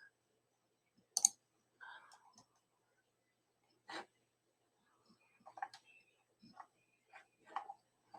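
Computer mouse clicks at a desk while an AWS web server is being set up: a few sharp, isolated clicks spread over several seconds, close and quiet, with soft breaths or faint murmurs between them.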